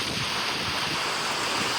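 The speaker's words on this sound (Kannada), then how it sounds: "ಗಾಳಿನೂ ಐತೆ." Gusty wind during a rainstorm with thunder and lightning, a steady loud roar of rushing air buffeting the microphone throughout, close and unbroken with no voices.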